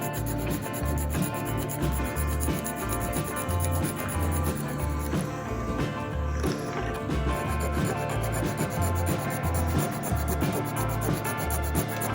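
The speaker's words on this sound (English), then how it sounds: "With your file, you're going to start smoothing it down till it's flat." A metal file rubs back and forth across a diecast model car part to flatten it, making continuous rasping strokes close up under a loud, steady background.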